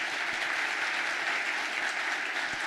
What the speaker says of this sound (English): Let's give a round of applause for our panelists again.